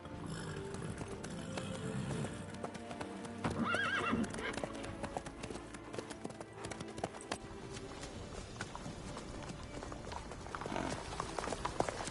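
Horse hooves clip-clop steadily at a walking pace in Witcher 3, over game music and ambience, with a brief whinny partway through and no talking.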